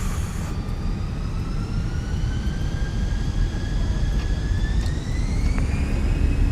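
A Fenix Airbus A320 in Microsoft Flight Simulator on its takeoff roll out of Split, jet engines roaring loud and steady with a rising whine, an airliner spooling up to power on the runway.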